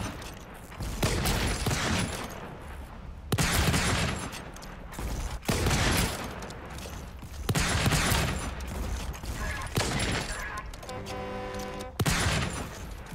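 Rapid rifle gunshots in the first-person video game Volcanoids, in a volcanic landscape, fired at a distant tower by a large chimney: repeated loud bursts of sharp cracks in several clusters, with a mechanical ratcheting reload near the end.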